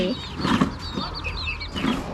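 Farmyard chickens clucking in short, scattered bursts at a Thai rural home, with ducks kept nearby and a steady background hum underneath.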